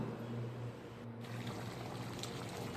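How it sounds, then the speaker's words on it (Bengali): Water pours steadily into a pot of chicken curry with yogurt while it cooks, a continuous close splashing trickle with a low cooking hum beneath. "ভালো করে কষে নিয়ে তারপর আমি জল দেব।"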